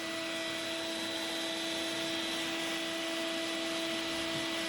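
Vacuum running steadily at close range while clearing debris from a vintage Polaris triple snowmobile during teardown, a continuous broadband whoosh with a fixed motor hum, no pauses and no voices.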